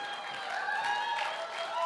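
An audience claps steadily for a couple of seconds during a sales mindset talk, a dense patter of many hands with faint voices mixed in.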